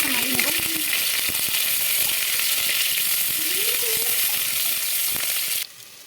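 Chopped onions hit hot oil with cumin and cardamom in a pressure cooker for chicken stew, a loud, constant close sizzle with occasional stirring knocks and brief murmurs of speech, cutting off abruptly near the end.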